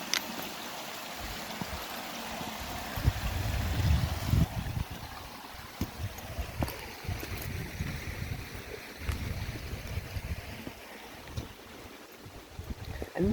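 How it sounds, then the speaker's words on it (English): Water rushes continuously in a stream and waterfall on a hiking trail, a steady broad wash heard from some distance with faint shifting splashes. "Oh, that looks quite a big waterfall though."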